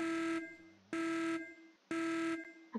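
An alarm in the video game Baldi's Basics blares in three loud, harsh buzzing blasts, each about half a second long, separated by short gaps of near-silence.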